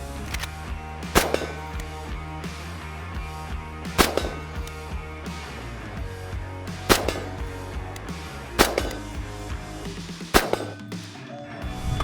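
Bushmaster ACR rifle fitted with a 16-inch carbine barrel, shooting at a range: several sharp, loud shots spaced a few seconds apart, each with a short ringing tail over steady background noise.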